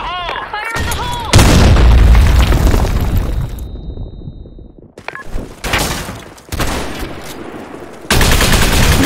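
Grenade blasts and gunfire in the shooter game Blackshot hit in several loud, close bursts separated by brief lulls, with a short game voice line at the start.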